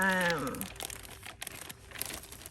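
Close crinkling and rustling of plastic Ziploc bags holding sanitized bottles, continuous soft crackles with brief louder crunches, following a short bit of speech.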